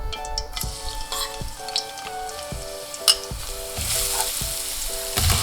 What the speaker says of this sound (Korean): 불을 켜시고 이제 기름을 둘러주세요. 마늘 넣어주세요.